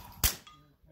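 A single sharp gunshot fired at a target at an outdoor range, close and loud, with a short decaying echo trailing off and no talk.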